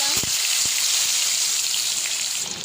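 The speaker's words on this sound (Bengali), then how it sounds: "আলু একটু ভাজা ভাজা হয়েছে" Potatoes frying in mustard oil with dried red chilli and cumin give a dense, close crackling sizzle, with a couple of low knocks from the pan early on.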